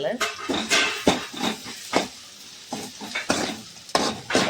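Grated coconut frying in oil gives a close sizzle and repeated stirring scrapes against the pan at an irregular, busy rhythm, with people talking over it.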